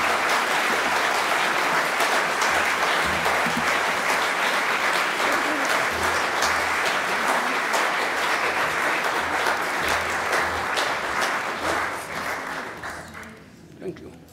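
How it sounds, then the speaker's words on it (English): Audience at a lecture and Q&A session on Islamic discourse giving a sustained round of applause, dense steady clapping from a large crowd that thins and fades toward the end. "I would like you to join me in a big round of applause"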